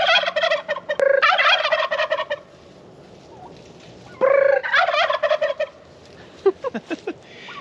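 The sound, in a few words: turkeys gobbling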